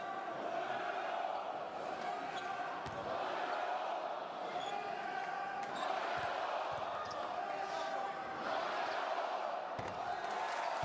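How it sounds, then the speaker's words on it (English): A Hungarian home crowd roars for its team at a FIBA World Cup 2023 qualifier against Portugal, sustained loud crowd noise with ball bounces thudding through it and a commentator talking over it. "Their crowd getting right behind them."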